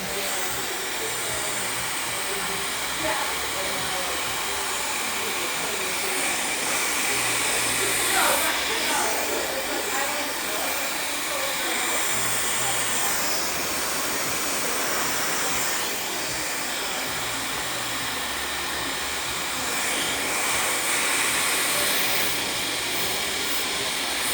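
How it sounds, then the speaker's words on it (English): A hair dryer blows steadily at close range, a loud continuous airy roar with a low motor hum, running unbroken throughout. "I'm gonna turn on my dryer, so if it's loud, just turn it down."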